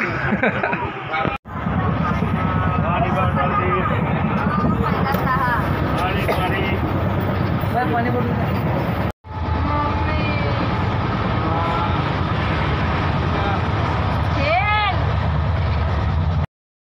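Inside a moving passenger train, a steady, loud rumble and rattle carries on almost without a break, with voices talking over the constant travel noise.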